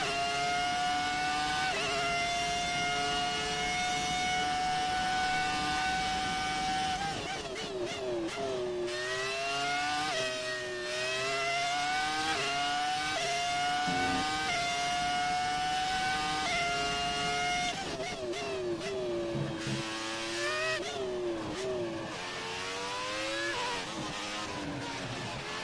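Formula 1 car engine in the F1 2019 racing game at the French Grand Prix, a loud continuous high-pitched whine rising and falling through repeated upshifts and downshifts, sustained throughout with no talk.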